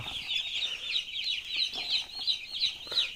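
Small chicks or chickens cheep and cluck in quick repeated high peeps, a busy rhythmic chatter close by with no talking.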